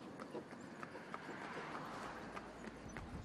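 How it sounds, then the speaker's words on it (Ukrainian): A mare pulling a carriage through city streets clip-clops along the road at a steady trot, the hoofbeats faint and distant under a wash of traffic noise. "Дорогою кобила поводиться чемно, зупиняється на світлофорах та не порушує правил руху."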